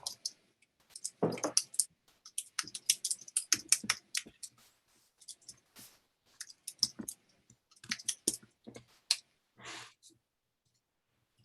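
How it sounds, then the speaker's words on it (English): People typing on computer keyboards during a design presentation session: scattered bursts of quick clicks and taps, close and fairly loud, coming in irregular clusters with short pauses, no talking over them. "it turned out people are just typing"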